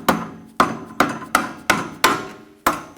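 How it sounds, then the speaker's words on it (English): A hammer taps a bolt into the front forward upper control arm of a 2004-2009 Audi A4 Quattro: seven sharp metallic strikes at a steady, slightly uneven rhythm, close and loud, each ringing briefly. "Tap the bolt in."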